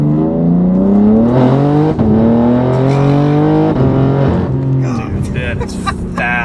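A BMW G80 M3 pulls hard, its engine note climbing steadily and dropping sharply at quick gear shifts, loud and close as heard from inside the cabin, with occupants talking over it.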